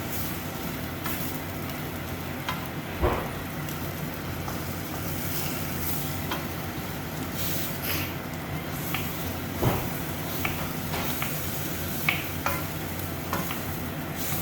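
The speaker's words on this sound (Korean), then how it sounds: "이왕 볶는 김에 그냥 소스를 지금 부을게요." A sizzling pan of food being stir-fried in a home kitchen, a steady frying hiss with scattered clinks and scrapes of a utensil against the pan.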